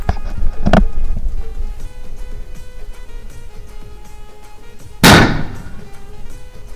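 A large firecracker bomb goes off outdoors during Ganpati festival celebrations in the Konkan region: one sharp bang early on, then a louder, close blast about four seconds later that rings out briefly over steady background noise.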